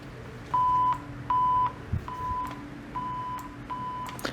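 TEAC MB-20 push switch pressed cleanly several times, each press giving a short steady electronic tone in an even repeating pattern, with no crackle, close and clear over a faint hiss.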